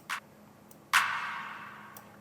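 Two sharp handclaps, the second followed by a long reverberant tail that fades slowly, heard alone with faint ticking in the background.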